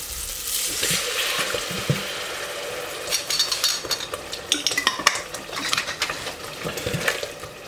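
Tomato paste and passata fry in a pan while a utensil stirs and scrapes through them, giving a soft sizzle under irregular clinks and scrapes that come closer together toward the end, with no talking.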